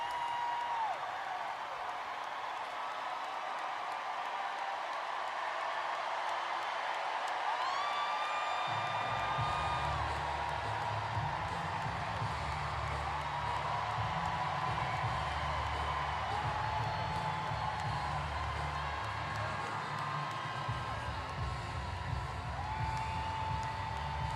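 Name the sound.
crowd cheering and whooping at a campaign rally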